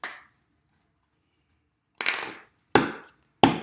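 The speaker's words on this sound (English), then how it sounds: "Shuffling these cards." Tarot cards being shuffled up close: one crisp riffling burst, a pause, then three more short snappy bursts in quick succession, with no talking.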